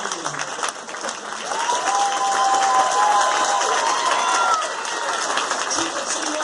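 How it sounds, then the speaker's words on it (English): Applause and some cheering sweep through a large audience at the NYPD GOAL 34th anniversary dinner, swelling to a loud, dense wash in the middle before easing, with occasional raised voices in the crowd. "Let's applaud the highest man in the room."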